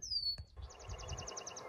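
Birds call by a prairie pond with beaver stumps, where red-winged blackbirds and yellow warblers live: a sharp falling whistle, a brief click, then a fast even trill of repeated chirps, moderately near under a soft outdoor hiss.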